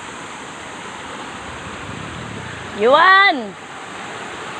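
Swollen, murky brown floodwater rushes after rain as a steady broadband roar throughout, briefly interrupted by a shouted voice near the middle.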